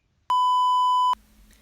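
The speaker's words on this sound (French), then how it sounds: "Laissez-moi un message." A single clean electronic voicemail beep sounds for under a second, a steady pure tone that cuts off abruptly into quiet line noise.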